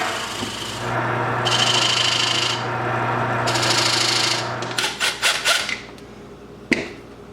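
Wooden bowl bottom being finished on a lathe with a donut chuck: a steady motor hum carries rasping tool passes in bursts, then a series of short rhythmic scraping strokes and a final knock near the end.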